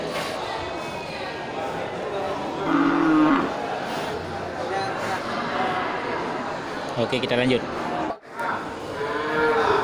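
Several large cattle moo loudly and repeatedly at a livestock market in Geulumpang Payong, amid a busy, noisy crowd, with someone talking over the din.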